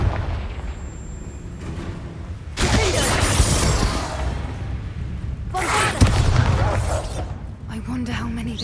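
A Confringo fire spell explodes in Hogwarts Legacy with two loud bursting blasts a few seconds apart, over game ambience and a character's voice.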